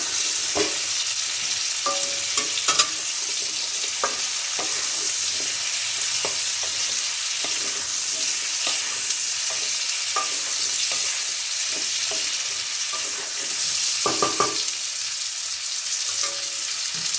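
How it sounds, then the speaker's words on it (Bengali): Pumpkin and potato pieces sizzle steadily in a hot frying pan while a spatula stirs them, scraping and tapping at irregular intervals above the continuous frying hiss, close and fairly loud throughout. "আলুটা দিয়ে প্রথমে একটু নাড়িয়ে নেব"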